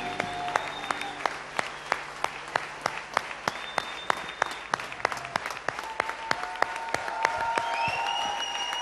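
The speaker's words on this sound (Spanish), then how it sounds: "Vamos a darle un fuerte aplauso al Señor." Steady rhythmic clapping from a congregation at a church harvest celebration service, sharp regular claps over a murmur of voices and some sustained musical tones, swelling slightly toward the end.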